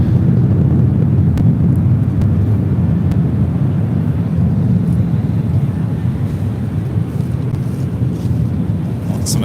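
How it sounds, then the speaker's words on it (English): A United Airlines Boeing 737-800 arriving at LAX from SFO gives a loud, steady broadband jet roar that swells and fades slightly, with wind buffeting and some faint talk in the background. "Next arrival here on the north side is United Airlines Flight 1314 coming in from SFO on 737-800"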